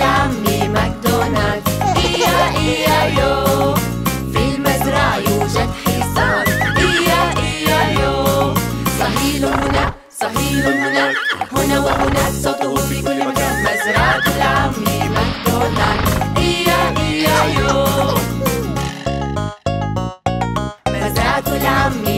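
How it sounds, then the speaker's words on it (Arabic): A horse on a farm in a children's Old MacDonald song neighs and whinnies in repeated loud calls over bouncy music, with no one speaking. "في المزرعة يوجد حصان."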